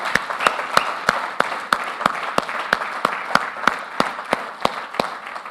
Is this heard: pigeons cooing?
no